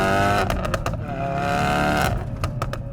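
A 380 WHP Ford Focus RS exhaust revs hard, a loud rising engine note broken by sharp rapid crackles and pops during gear changes and lift-offs.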